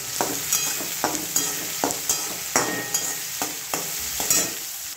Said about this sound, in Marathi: बघा, याला फ्राय होऊन देते मी आता।